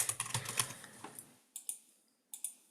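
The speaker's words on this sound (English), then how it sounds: "So I'm just going to type that in." Typing on a computer keyboard: quick bursts of close, crisp key clicks, a dense run at first and then a few scattered taps after short pauses, with no talking.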